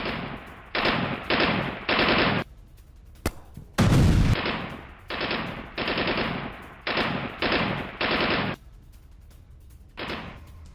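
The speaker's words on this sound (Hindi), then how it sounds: "इजरायल ने फायरिंग का वीडियो भी जारी किया है" Bursts of automatic gunfire from combat footage released by Israel, several loud rapid strings of shots separated by short pauses, with one heavy boom partway through.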